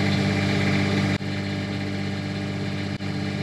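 An Onan generator runs at an RV, giving a loud, steady mechanical drone with a constant engine hum. Two brief dips interrupt it, and no one speaks.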